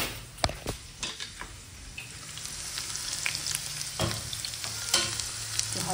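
Chicken frying in mustard oil for a dhaba-style dish, a steady sizzle broken by several sharp clacks and scrapes of a ladle against the pan, close and without voices.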